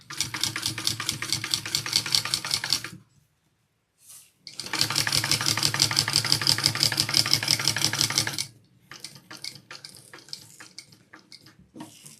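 A sewing machine stitches forward on a fabric bag in two long, steady bursts of rapid, close mechanical chatter, separated by a short pause, then quieter handling noises at the end.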